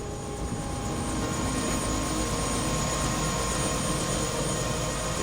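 A helicopter in the video game Prey gives off a steady, loud rotor and turbine drone, close and continuous with a constant high whine, and no voices over it.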